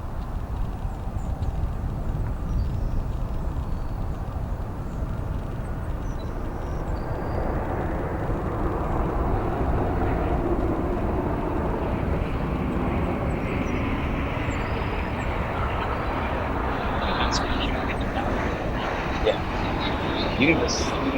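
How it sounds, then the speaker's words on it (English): A jet airliner, a Boeing 777 or 787-10 arriving from Frankfurt, lands at O'Hare, giving a steady broad engine roar at a distance that holds throughout, with people talking nearby over it. "that's a 777 or 787-10 that's landing from Frankfurt over there"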